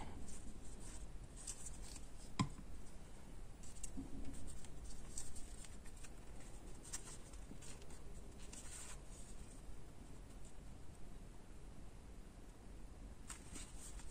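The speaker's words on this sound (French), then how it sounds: "Je colle mon papier." Paper being glued onto a page of a small scrapbook mini album: faint, close rubbing, patting and rustling of paper, with a few soft taps, in a quiet room.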